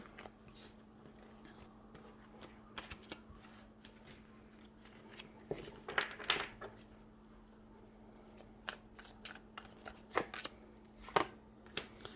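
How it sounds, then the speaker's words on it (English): Tarot cards are riffled and shuffled in quiet bursts of soft papery flutter and slaps, growing louder and busier in the middle and ending with a few sharp snaps. "Wow, cards are flying."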